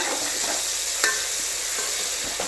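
Mutton frying with ginger garlic paste, a dense, loud, continuous sizzle with soft stirring scrapes and one brief knock, close up.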